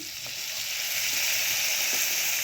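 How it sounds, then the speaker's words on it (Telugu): Curry leaves drop into hot oil already seasoned with asafoetida for a tempering, producing a loud, dense, continuous sizzle up close with a few faint stirring clicks, and no voices. "ఇందులోనే కొంచెం కరివేపాకు వేసేస్తాను."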